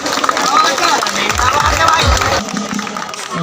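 An audience at a Valmiki Jayanti celebration breaks into applause, a busy wash of clapping and crowd babble at close range, with some low thumps and a sudden drop near the end.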